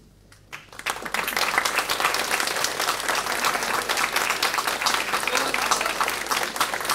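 After a quiet moment, a room of people at a library day morning event breaks into steady, fairly loud applause for the preparation committee, holding constant to the end.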